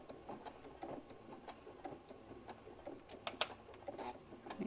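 A sewing machine back-stitches over a seam on a hobo bag, giving soft, quick ticking stitches that run continuously at low volume, up close with no talk.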